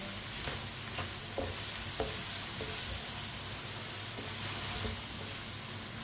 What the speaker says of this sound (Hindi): एक मिनट के लिए पका लिया मसालों को मैंने।